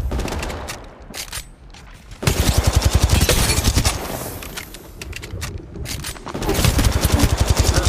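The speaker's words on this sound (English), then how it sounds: "Opening fire on the enemy." Gunfire in Apex Legends, loud rapid automatic bursts in several long volleys with short pauses between, close and alone with no talk.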